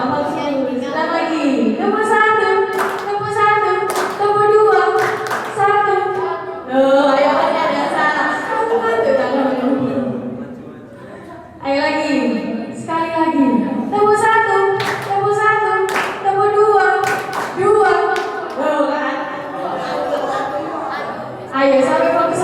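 A group claps out a rhythm game during a motivational learning session, sharp hand claps landing in short bursts between loud chanted counting voices, repeating in phrases across the whole stretch.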